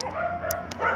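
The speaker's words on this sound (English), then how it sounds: "All the dogs are barking because," Several dogs bark and yip nearby in quick overlapping bursts, with whimpering tones, loud and close over a brief moment.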